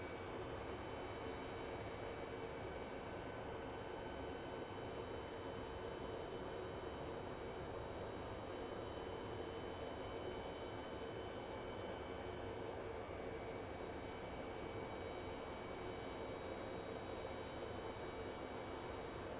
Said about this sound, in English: our big Airbus is very, very close